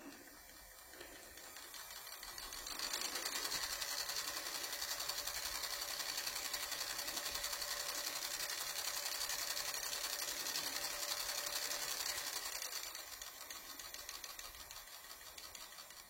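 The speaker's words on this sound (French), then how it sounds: "Rotation du moteur vers la gauche avec accélération." An electric motor driven by a bidirectional ESC spins up in one direction, its whirring whine swelling in after a few seconds, holding steady and loud, then fading back down toward the end.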